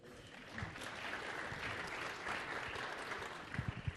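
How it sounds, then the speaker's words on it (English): Faint applause from a conference audience at a SharePoint technical session, a soft, steady clapping wash heard from a distance, with a few louder close claps near the end. "we love gratuitous applause"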